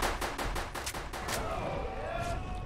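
Rapid gunfire in the Roblox game Shrek in the Backrooms rattles off in a quick burst of about seven shots, then fades into a sweeping whoosh and game noise, fairly faint and steady throughout.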